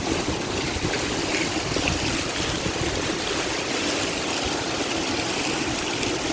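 Constant rushing flow of water through park channels at Quranic Park, Dubai, steady and fairly loud, with no voices or other distinct sounds.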